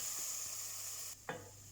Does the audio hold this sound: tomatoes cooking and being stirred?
yes